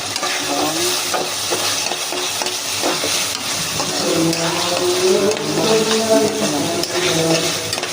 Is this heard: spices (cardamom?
yes